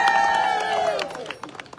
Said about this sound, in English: Can we have a round of applause for the shark